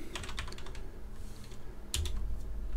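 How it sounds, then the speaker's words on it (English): Rapid keystrokes on a computer keyboard, a quick run of clicks followed by a pause and a second short burst, close and fairly quiet with no talking. "one good web search is to just type in what's my IP"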